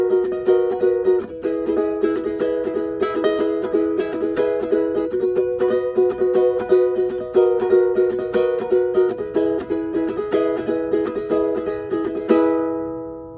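A ukulele strums the chorus chord progression of a song in a steady rhythm, each bright chord ringing out clearly on its own with no voices.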